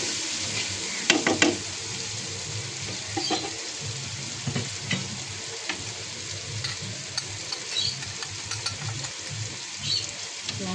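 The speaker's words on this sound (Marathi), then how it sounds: "मीठ टाकलं की कांदा लवकर शिजतो आणि टमाटे सगळे मसाले छान शिजतात लवकर" Onion, tomato and spices with salt sizzle and fry in a pan for Indian-style cluster bean curry, a continuous close hiss with occasional stirring scrapes and clinks, no talk.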